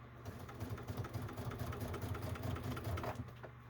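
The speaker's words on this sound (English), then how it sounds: "Always remember when you're putting these on to back stitch at the beginning and the end." A sewing machine back stitches while sewing a bag, a close rapid mechanical chatter of the needle running steadily with a low motor hum and brief pauses.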